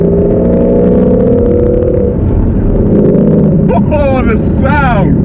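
A Shelby GT350's engine hums in a low, steady drone from inside the cabin while driving, then revs up in rising sweeps near the end.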